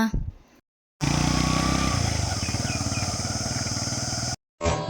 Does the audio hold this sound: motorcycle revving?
yes